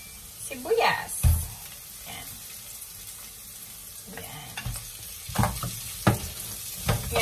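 Onions sizzle in a pan with browned garlic, a steady crackling hiss under a voice speaking, with occasional clinks and stirring bumps of a utensil.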